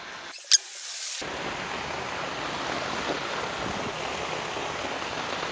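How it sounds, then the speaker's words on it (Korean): Outdoor swimming pool at a large luxury country house, its water giving a steady, soft rushing wash that runs on evenly after a brief sharp knock near the start. "멋있게 물소리까지 쫙 들리고 있습니다"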